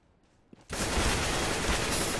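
Gunfire in a competitive tournament video game match erupts suddenly after a quiet moment, a loud sustained barrage of dense shots continuing to the end with no voices over it.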